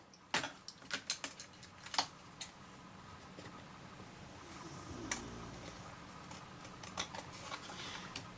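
Side of a paper card being trimmed, a series of crisp close clicks and snips in quick bursts at the start, then quieter scattered ticks with a soft rustle over a faint background.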